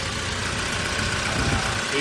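A used Hyundai Porter 2 light truck's 2.5-litre diesel runs at idle, giving a brief, steady mid-level engine drone.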